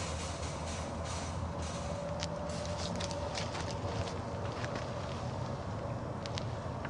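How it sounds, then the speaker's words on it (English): A fog machine runs steadily into a DIY vortex fog chiller cauldron made from a Coleman 48-quart ice cube cooler with aluminum dryer duct, giving a continuous broadband hiss outdoors with faint wind. "You can hear the fog machine right now."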